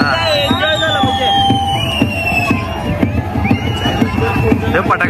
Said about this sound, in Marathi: सगळीकडे आता फटाके उडायला लागले